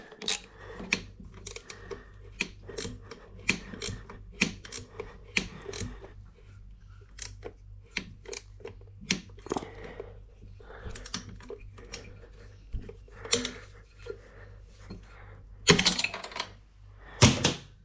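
A socket wrench turning bolts on a 2024 Honda Navi motorcycle, a long run of quick metallic ratcheting clicks in bursts with short pauses, close and fairly quiet, no talk.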